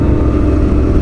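A motorcycle engine sputtering as it dies, loud and close, a rough continuous low rumble with uneven pulses and no voices.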